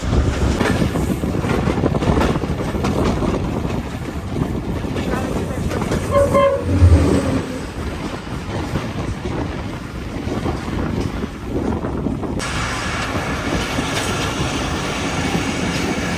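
A Tezgam passenger train running on rails between Nawabshah and Karachi gives a loud, continuous rumble and clatter of wheels on track that stays steady throughout, with no talking.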